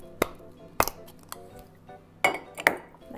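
A large ice sphere clinks against a glass in several sharp, bright knocks and clinks spaced irregularly, close and clear with quiet between them.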